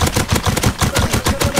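Rapid bursts of gunfire from the Rust video game crack out in a fast, loud, irregular series of repeated shots, close and up front with no talk.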